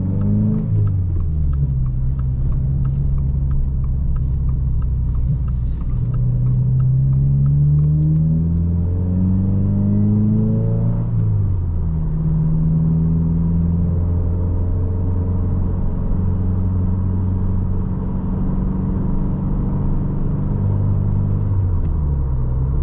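Subaru WRX VB cruising on a packed highway in traffic, its steady mid-pitched engine drone and road rumble continuous and close, with gentle rises and falls in revs as it shifts and accelerates.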